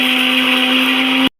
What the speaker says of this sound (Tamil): மிக்ஸியில் அரைச்சிக்கலாம்.